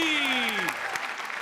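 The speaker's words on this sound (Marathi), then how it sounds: "जोरदार टाळ्या आमच्या 5ही स्टार्ससाठी" A television comedy show audience claps in a dense burst of applause, loud and close, under a fading musical sting and a voice, thinning out after about a second.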